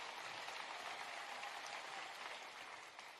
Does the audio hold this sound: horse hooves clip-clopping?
no